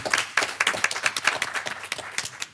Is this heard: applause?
yes